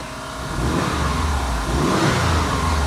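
A Subaru WRX engine with a new, quieter exhaust, replacing a loud straight pipe, rumbles steadily and close after starting up, holding a low, even drone with no talk over it.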